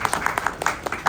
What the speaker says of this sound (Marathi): ज्यांनी हात वर केला नाही त्यांनी टाळ्या वाजवा या लोकांसाठी